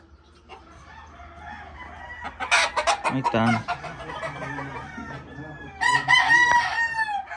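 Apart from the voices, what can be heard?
roosters crowing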